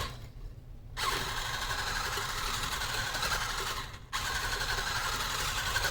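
Electric mixer whirs through instant pudding in a bowl, a loud steady motor drone that cuts out briefly twice and then runs on, with no talking.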